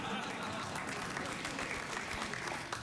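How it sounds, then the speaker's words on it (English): A TV studio audience at a late-night talk show applauds steadily and loudly throughout, a dense wash of clapping with no break. "Why are you applauding me?"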